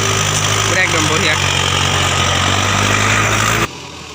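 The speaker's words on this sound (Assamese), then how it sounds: "এতিয়া মানে ট্ৰেক্টৰখন যাবলৈ ওলাইছে" A tractor engine runs in a farm field with a close, steady low hum for about three and a half seconds, then cuts off abruptly.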